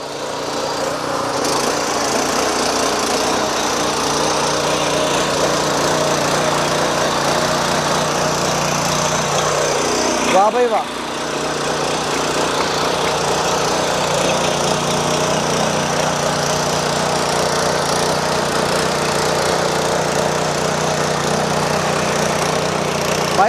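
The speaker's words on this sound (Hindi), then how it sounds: "इसमें टर्बो का इंजन दिया गया है और जो पहली ही किक में स्टार्ट हो जाएगा जी। चलो स्टार्ट करो" Power tiller with a turbo engine, kick-started, running loudly and steadily throughout with a brief dip in the middle, and a short spoken exclamation over it.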